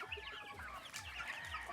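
Young pullet chickens cluck and murmur steadily in a backyard, several birds close by, with soft overlapping calls and a low background hum.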